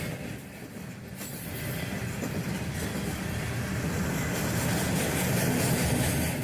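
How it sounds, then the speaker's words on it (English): A freight train hauling tanks rolls through Illinois, a continuous heavy rumble of wheels on rails building slightly louder as the cars pass, with faint squeal and clatter throughout. "This freight train carries tanks through Illinois"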